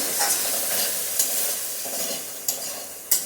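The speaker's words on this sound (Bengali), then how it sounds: "সমস্ত মশলা এখন ভালো করে কষিয়ে নেব" Ground spice paste with a spoonful of salt sizzles steadily in a pan while being cooked down for stuffed pointed gourd. A few sharp scrapes of the spatula cut through the constant frying hiss.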